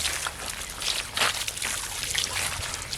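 Water pours in an uneven trickle with small splashy surges, close by and moderately quiet.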